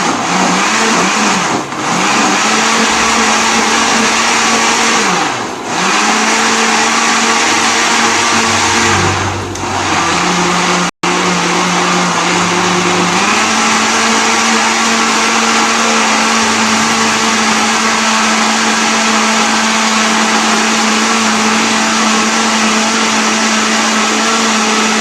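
A kitchen blender purees green grass jelly (cincau) leaves in about 250 ml of water, a loud, steady whirring roar that runs nearly continuously, with brief dips in pitch and a short break partway through.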